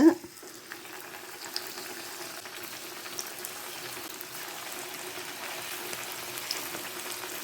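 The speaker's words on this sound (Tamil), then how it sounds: "இந்த மாதிரி நம்ம பிடிச்சி வச்சுருக்கிற அந்த மேகி கலவையும் இந்த எண்ணெயில் போட்டுடலாங்க" Balls of Maggi noodle cutlet mixture deep-frying in oil: a brief clatter at the start, then a faint, steady bubbling hiss with occasional small pops.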